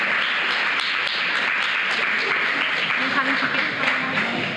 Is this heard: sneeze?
no